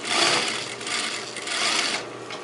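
A sewing machine runs steadily, stitching a zipper fly into a garment, its motor whirring loud and close in a continuous burst with a slight dip in the middle.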